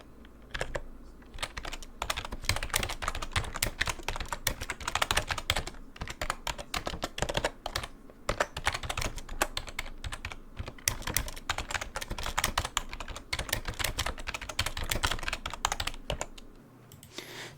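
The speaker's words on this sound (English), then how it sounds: "typing noises start" Steady computer keyboard typing while coding a recursive selection sort, a continuous close-up stream of crisp key clicks and clacks with no voice, holding an even level for the whole stretch.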